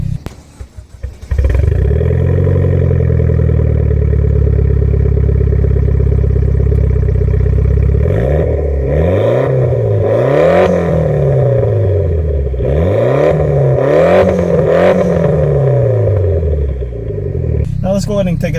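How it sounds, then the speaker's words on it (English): A 2014 Mitsubishi Lancer Evolution MR exhaust fires up with a loud cranking start, settles into a steady close idle, then is blipped through several sharp rising-and-falling revs before dropping back to idle. "I'll put an exhaust clip of what it sounds like in the back"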